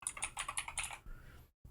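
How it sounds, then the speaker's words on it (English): Rapid computer keyboard typing, close and distinct, with a quick run of key clicks for about a second before it stops, then a single soft thud. "As you notice, I was typing,"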